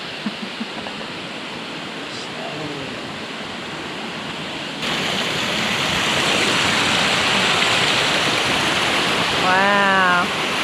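Waterfall on the Cross Bay River, a steady broad rush of falling water that swells louder midway through, with a voice speaking briefly near the end.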